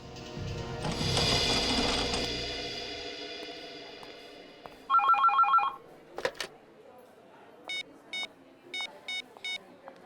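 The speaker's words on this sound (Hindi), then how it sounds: "आपके लिए फोन है।" A telephone at a police post rings in short electronic bursts, first as one trill, then as a repeating run of rapid beeping pulses after a louder, noisy opening.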